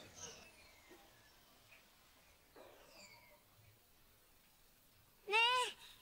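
A single short cat meow, clear and fairly close, rises out of quiet background noise near the end; earlier there are only faint scattered sounds.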